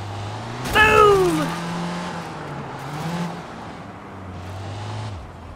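Car driving in the game Sleeping Dogs, engine humming low and shifting pitch, with a sharp squeal or impact burst near the start and the motor rising and falling as it moves on.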